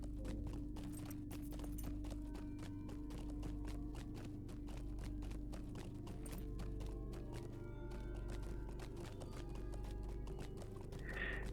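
Horse hooves clip-clop steadily in the Lord of the Rings Online game while riding through Isengard, a continuous rhythmic trot over a constant droning game soundtrack.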